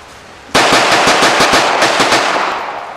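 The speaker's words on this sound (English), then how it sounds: "That's an easy gun to shoot." Rapid burst of gunfire from a handgun at an outdoor shooting range, a loud string of sharp shots fired in quick succession for about two and a half seconds, each report ringing out before fading into background noise.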